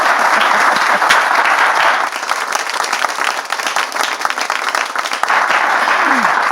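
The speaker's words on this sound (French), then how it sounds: "le papa, on peut l'applaudir" A French talk-show studio audience applauds a father of two sets of twins, loud sustained clapping from a large crowd that dips slightly midway and swells again toward the end.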